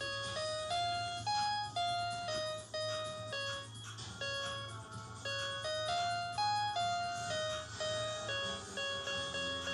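A keyboard plays a song's chorus as a slow melody of single bright sustained notes, each struck and decaying in an even rhythm over a low steady backing tone, close and clear with no talk.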